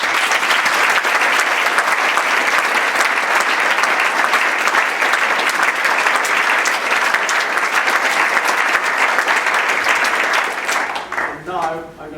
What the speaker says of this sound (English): So they all deserve this round of applause